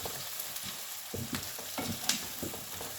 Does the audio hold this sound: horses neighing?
no